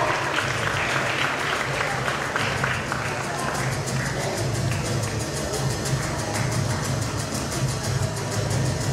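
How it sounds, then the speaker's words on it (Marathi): Audience applause at a prize distribution for a teachers' speech competition at a Marathi parents' conference, sustained dense clapping from a crowd for several seconds, steady and moderately loud. "टाळ्या वाजवूया"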